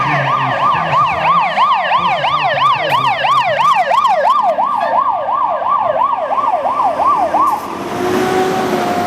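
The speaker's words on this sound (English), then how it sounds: "the first fire engine coming in is the Dennis Appliance with a crew of the fire engine." A Dennis fire engine of the Harare fire brigade arrives with its wailing siren sweeping up and down loudly and steadily, cutting off near the end as engine rumble remains.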